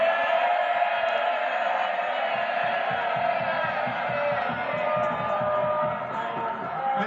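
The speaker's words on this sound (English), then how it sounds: "Cheering by all means, but don't damage." MPs in the House of Commons cheer and roar together during Prime Minister's Questions, a dense, sustained crowd noise filling the chamber for the whole stretch.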